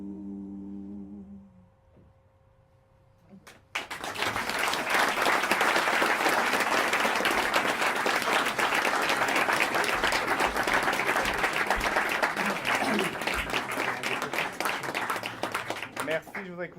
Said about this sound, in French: je voudrais que vous applaudissiez une nouvelle fois